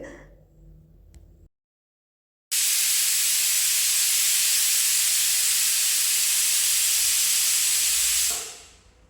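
A pressure cooker with ash gourd inside lets out a loud, steady hiss of steam that runs for about six seconds and then fades, after a quiet stretch at the start.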